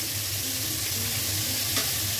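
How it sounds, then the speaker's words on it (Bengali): Fish pieces frying in a pan, a constant close sizzle and bubbling with faint stirring and background hum, no talk. "এই যে মাছগুলো ভাজা হোক"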